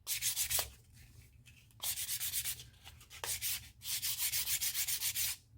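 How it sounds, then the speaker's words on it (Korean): Sandpaper rubs back and forth over a leather edge to level it flat, coming in bursts of rapid, even strokes with short pauses between them, close and alone. "수평을 유지하면서 면을 다듬어 준다는 거죠."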